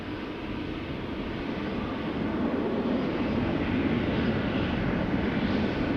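A jet airliner's engines roar steadily while departing Amsterdam Schiphol Airport, a broad, loud, sustained rumble that slowly swells without pause and with no voices.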